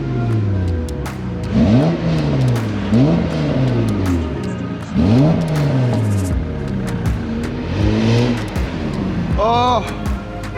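A Mercedes E220 driving off-road, its engine revving in repeated rising and falling surges that get louder and softer as it accelerates and eases off, with people talking and shouting over it.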